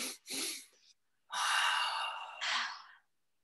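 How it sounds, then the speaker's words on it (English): A person takes a deep breath, starting with two short audible breaths and then one long, loud, breathy inhale-exhale at close range before silence. "I recommend taking a deep breath"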